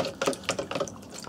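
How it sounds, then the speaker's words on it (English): A circuit board being swirled around in a shallow bath of deionized water to rinse off flux, giving a brief run of close, soft sloshing and dripping splashes with no talking. "I'll pop the board in, and I'll just swirl the board around in the bottom there."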